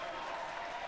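Audience applause at a presidential debate involving Hillary Clinton, a steady wash of many hands clapping at even loudness throughout the brief moment.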